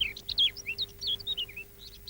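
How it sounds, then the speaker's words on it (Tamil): Songbirds sing in a quick run of bright chirps and short warbled phrases, fairly clear and close, with a steady low hum beneath. "இதெல்லாம் என்ன தெரியுமா சிங்கிங் பேர்ட்ஸ் என்ன உன்ன மாதிரி தான் பாடும் பறவைகள்"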